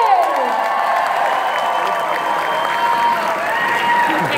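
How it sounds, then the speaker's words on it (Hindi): A concert audience at a show in Houston applauds and cheers, a dense, continuous wash of clapping and crowd noise at steady volume. "एक बार जोरदार तालियां हो जाए सबके लिए"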